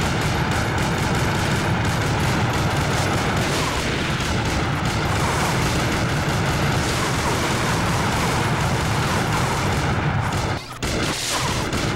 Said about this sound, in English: Machine guns in the slot machines?